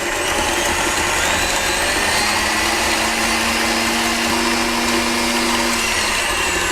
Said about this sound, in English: the same whisk, add the egg yolks into a mixing bowl, salt, oil and the milk, and mix this about a minute